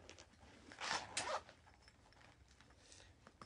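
A small zipper on the back pocket of a marker case rasps in a couple of quick close pulls, then quieter faint handling.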